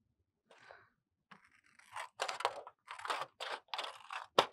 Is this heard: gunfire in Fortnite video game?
no